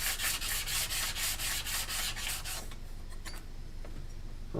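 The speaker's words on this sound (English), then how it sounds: "the reason that I'm doing it with the sandpaper on the glass is that ensures I've got just about as true flat surface as I can get" Sandpaper laid flat on a sheet of glass, with a workpiece rubbed across it in fast, even back-and-forth strokes that give a loud rasping scrub, then a quieter pause with a few light scrapes.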